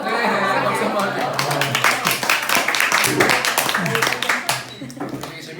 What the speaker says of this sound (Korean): 박수 한번 할게요